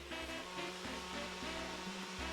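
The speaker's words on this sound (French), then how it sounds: "Alors, c'est un ventilateur brumisateur." A small battery-powered misting fan runs close by with a steady, buzzy whirring hum that wavers slightly in pitch.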